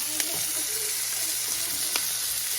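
Steady soft sizzling of parmesan shrimp searing in a hot pan, a constant hiss with a couple of faint clicks, close and fairly quiet.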